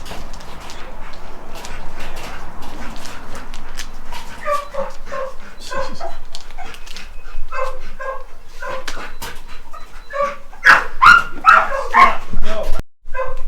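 An excited dog barks and yips repeatedly at a shop where a 1952 671 Detroit Diesel engine is being readied, the sharp calls growing denser and louder toward the end, with people talking throughout.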